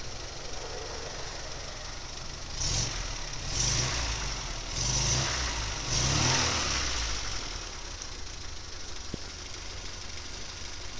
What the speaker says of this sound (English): Ticks over very nicely now I've cleaned the carburetor out.